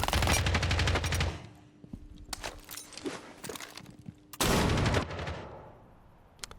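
Video game SMG fire in rapid automatic bursts, a loud stuttering burst at the start, scattered single shots and clicks in between, then a second loud burst midway, with faint footstep-like taps.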